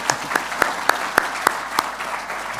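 An audience at the 2018 OAC Western Australia Community Awards night claps, a fairly quiet but steady patter of applause with a few sharper claps standing out at a regular pace, and no voices over it.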